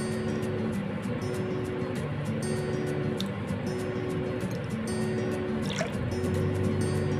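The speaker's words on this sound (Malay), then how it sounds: "Masukkan air pati asam jawa." Tamarind water poured into a Malaysian chili dipping sauce of palm sugar, shallots and bird's eye chilies, a steady liquid trickle and splash running throughout over a low background hum, with no voices.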